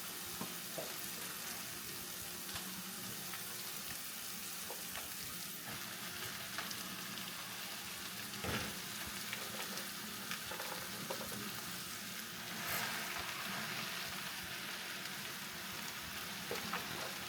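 Callaloo leaves frying and being stirred in a pot, a steady close sizzle running throughout with occasional scraping and stirring bumps, no talking.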